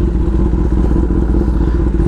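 A Kawasaki ZX-10R sport motorcycle engine runs at a loud, steady, throbbing idle, close up and continuous, with no talk.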